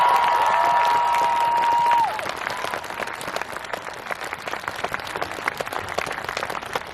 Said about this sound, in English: Give yourself a round of applause for being here for the start.